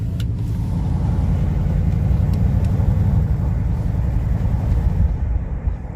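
A 2000 Mercury Grand Marquis drives with the window rolled down, its engine giving a steady low rumble mixed with road and wind noise that stays loud and constant throughout.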